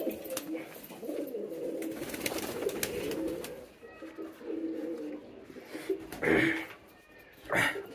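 Sirazi pigeons on a pigeon farm coo in low rolling bursts, close and fairly loud, with scattered rustles, wing flutters and a few sharper calls near the end.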